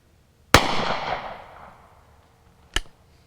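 Two sharp gunshots from a Rossi Brawler fired at 20 yards, spaced about two seconds apart. The first is loud with a long ringing decay; the second is quicker and slightly softer.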